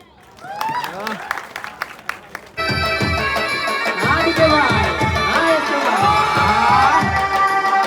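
A crowd at a live stage event claps and cheers loudly, first scattered claps, then sustained dense applause with shouts and whistles for several seconds, a voice calling out over it.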